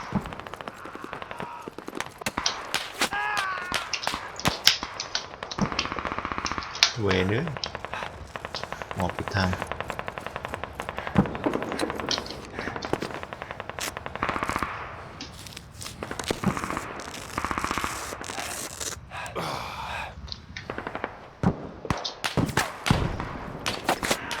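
Gunfire in the Squad military shooter game, scattered sharp shots and bursts mixed with busy battlefield noise, with a voice talking over it at times.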